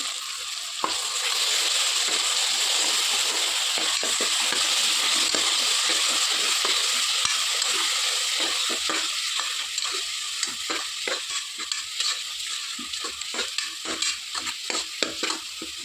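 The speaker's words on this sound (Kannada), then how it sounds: "ಇವಾಗ ಪೇಸ್ಟ್ ಹಾಕೊಳ್ತಿದ್ದೇನೆ ಸರಿ ಫ್ರೈ ಆಗಲಿ ಹಸಿ ವಾಸನೆ ಹೋಗಬೇಕಿದು" Masala paste with tomato sizzles steadily in a pan for avarekalu pulao, a continuous close fry with scattered stirring scrapes growing more distinct toward the end, no voices.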